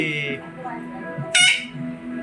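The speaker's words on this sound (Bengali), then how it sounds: "তো দেখলেন তো আমাদের সুইটিকে, আর সুইটি আর ওটা আমাদের সোনা পাখি, আমাদের ওর সঙ্গে খুব খাতির।" A pet bird gives one sharp, loud squawk at close range while people talk nearby.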